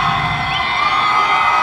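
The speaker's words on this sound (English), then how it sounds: "Wow, the crowd is so loud." A crowd at a professional basketball game in Montréal cheers loudly: a dense, steady roar with whoops and high shouts, close and sustained across the whole moment.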